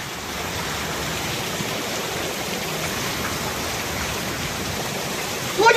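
Heavy hurricane rain hisses as a steady, loud wash of water pouring down outdoors, unbroken throughout, with a sudden louder burst at the very end.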